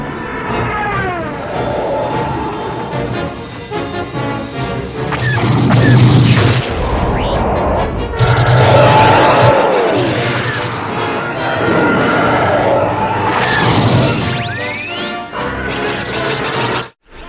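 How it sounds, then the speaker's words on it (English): A Star Wars TIE Fighter attack battle unfolds continuously with layered booms, blaster-like bursts, crashes and streaking engine whines over an orchestral score, loud and dense throughout. "I really love the TIE Fighter attack sequence."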